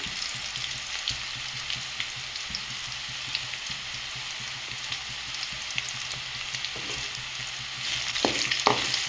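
Sliced bitter gourd sizzles steadily in oil in a pan with a little turmeric, a constant close frying hiss with faint stirring scrapes and a few brief clinks near the end.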